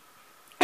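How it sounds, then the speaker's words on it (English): A single short, sharp cough bursts out near the end, close and fairly loud after a stretch of near silence, from someone at a craft table working on embellished envelopes. "Sorry, I just coughed there."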